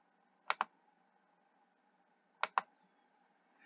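Quiet keyboard typing and a mouse click on a computer in an online classroom platform, two sharp paired clicks spaced about two seconds apart against a faint steady hum, close and isolated.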